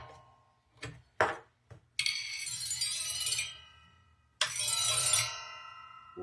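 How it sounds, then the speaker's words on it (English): Handmade hanging chimes being tested at a workplace give a few sharp clinks, then two long, bright ringing tones that slowly fade. They sound close, with no talk. "They make good chime."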